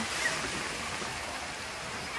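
Sea waves wash along the shore at Digha beach, a soft, steady rush of surf with no distinct breaks, fairly faint and brief, and no one speaking.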